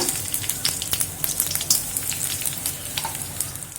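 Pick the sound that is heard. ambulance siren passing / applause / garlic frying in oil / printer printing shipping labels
garlic frying in oil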